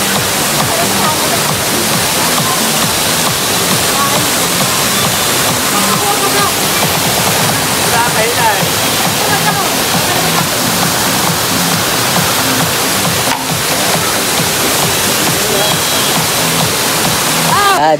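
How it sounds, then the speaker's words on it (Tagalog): A waterfall roars steadily and loudly at close range on a ride through Infanta and Real, Quezon, a dense unbroken rush of falling water filling the whole stretch. "Ayun guys, yung falls."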